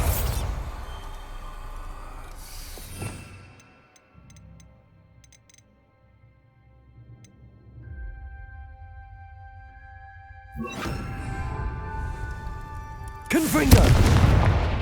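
A Bombarda spell blast in Hogwarts Legacy bursts at the start and again in heavy booming crashes near the end, separated by a quieter stretch of faint magical tones.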